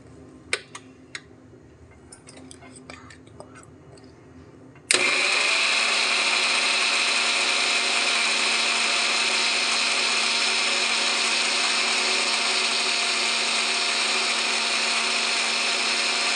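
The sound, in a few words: blender grinding fresh cream and masala into paste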